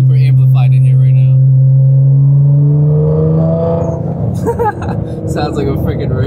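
Engine of a lowered Nissan GT-R heard from inside the cabin with the rear interior stripped out, a loud steady droning rumble that rises gradually in pitch as the car accelerates, with some rattling and road noise near the end.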